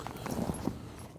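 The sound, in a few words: horses walking, hooves clip-clopping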